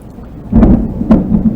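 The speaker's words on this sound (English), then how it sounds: "excuse the thunder and lightning" Thunder from a nearby thunderstorm: two loud, booming cracks, each followed by a rumbling tail, heard alone with a soft hiss of rain beneath.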